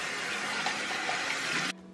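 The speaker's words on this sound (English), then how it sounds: "So I'm gonna rinse that out." Running water rinses out a glitter-dusted makeup brush container in a steady gushing stream, which cuts off sharply near the end.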